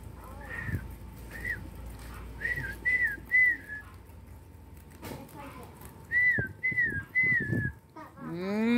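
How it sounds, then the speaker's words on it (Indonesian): Someone whistles short, repeated rising calls to summon pet rabbits on a rabbit farm in Purworejo, the whistles coming in bursts with pauses, fairly close, amid faint background noise and a brief voice. "Panggilannya cuma dengan siul aja."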